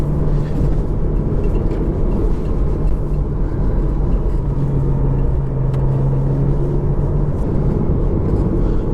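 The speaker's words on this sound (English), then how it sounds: "I'm still hearing lots of rocks and gravel in the wheel wells" Rocks and gravel rattle in the wheel wells of a car driving on Redwood Road, a faint, scattered clatter buried in a constant loud road rumble and engine drone inside the cabin.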